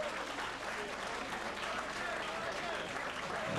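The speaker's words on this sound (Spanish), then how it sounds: "Un aplauso para los dos boxeadores." Audience applause for two boxers at the end of a four-round bout at a boxing event in Saint Petersburg: a dense, steady wash of clapping that fills the whole stretch at an even level, with a commentator's voice running over it.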